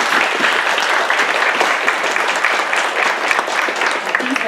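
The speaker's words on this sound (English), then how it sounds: "Give her a round of applause." A conference audience at a Clojure programming talk gives a loud, sustained round of applause, dense clapping close by with faint crowd murmur mixed in.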